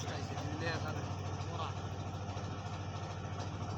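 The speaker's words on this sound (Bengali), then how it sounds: "এদিক সোজা দেখছো কত বড় বড় জাহাজ আইতাছে" Big ships passing along a river, their engines a low steady throb heard at a distance beneath a person talking close by.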